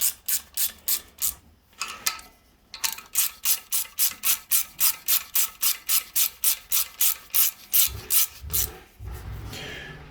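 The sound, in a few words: torque wrench clicking at 10 newton meters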